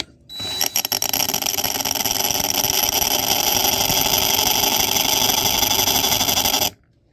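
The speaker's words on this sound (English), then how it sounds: "Drill the head off this screw or catch enough of it to get it out." An electric drill drilling off a screw head on a Garmin 5212 unit whirs up and runs continuously at a high, steady pitch for several seconds, then stops abruptly; close and loud, with no speech.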